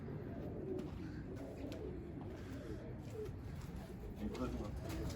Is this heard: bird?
yes